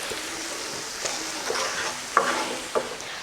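Spices frying in a pan for Mumbai pav bhaji, a steady, fairly loud sizzle with a few sharp clinks of a spatula stirring against the pan.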